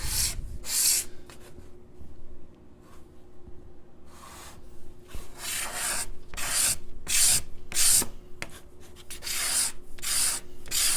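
A steel card scraper drawn across wood while luthier work is done, lifting shavings in a series of close, rhythmic rasping strokes separated by short pauses, with no talk.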